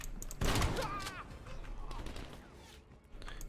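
Shotgun gunfire in Call of Duty: Black Ops Cold War, with a loud close blast near the start, followed by continued combat noise and game voices talking over it.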